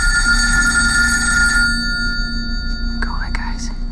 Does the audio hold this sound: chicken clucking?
no